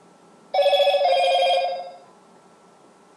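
A phone plays a single short, bright electronic chime for an incoming SMS verification code, loud and clear against near silence.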